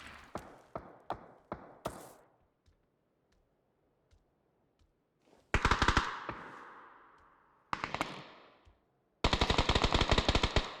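Gunfire in the PUBG video game: a string of separate sharp shots, then a quiet gap, then several loud rapid automatic bursts close by, with no talking.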